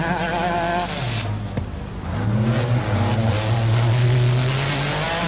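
An Opel rally car at the 1997 Formula Oviedo rally accelerates hard away from the spot, its engine rising loudly through the revs, then dropping back briefly before climbing again as it pulls off.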